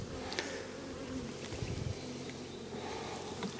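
Honeybees hum in a steady, close swarm drone around an opened hive during an inspection, with faint handling noises and no talk.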